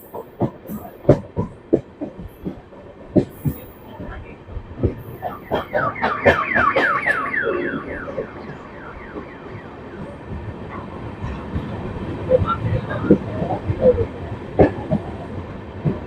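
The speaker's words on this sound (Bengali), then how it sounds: "ট্রেন এই মুহূর্তে প্রবেশ করতে চলেছে মুর্শিদাবাদ জংশন স্টেশন" A train runs on rails as it approaches Murshidabad Junction station, with sharp rhythmic wheel clacks at first, then a loud sustained horn-like tone and a steady rolling rumble that swells again near the end.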